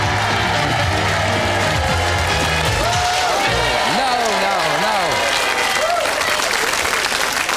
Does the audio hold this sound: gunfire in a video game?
no